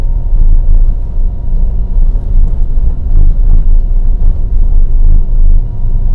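A Toyota Avanza car's engine labors steadily uphill in second gear, a loud, close, low rumbling drone from inside the cabin with uneven surges and no talking.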